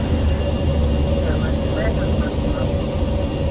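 A Boeing 757-24APF freighter with the Mango soundpack roars down the runway on takeoff in X-Plane 11, a steady, loud, broadband engine rumble that holds throughout with a voice talking over it.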